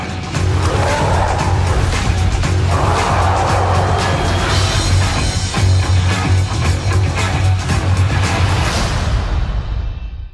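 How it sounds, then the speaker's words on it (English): The trailer for Marvel's 2017 film Thor: Ragnarok plays a loud, dense mix of rumbling effects and bursts of action noise with a steady low drone under it, fading out at the end. "What you just heard is the trailer for Thor Ragnarok"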